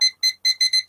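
A timer beeps five times in quick, uneven succession as it is reset, bright high electronic chirps, close and clean with silence between them.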